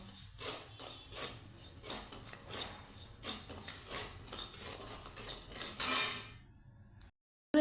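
A utensil scraping repeatedly through dry salt being heated in a pan, a steady series of gritty strokes close by, ending abruptly in silence.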